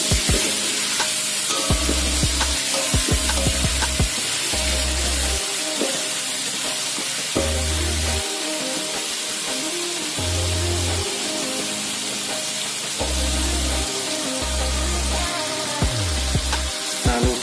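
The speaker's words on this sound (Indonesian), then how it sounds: "kita tumis sampai harum" Jengkol sautéed with green chili, shallots and garlic in a pan, a steady loud sizzle broken by repeated scraping stirs and clanks of the utensil against the pan.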